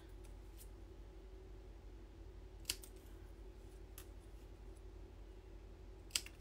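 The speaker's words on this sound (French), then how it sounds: "les bouts, je peux les couper avec mes ciseaux" Scissors snip the ends of paper while making an embossing-paste card, giving two or three sharp, brief cuts spread apart over a steady low background hum.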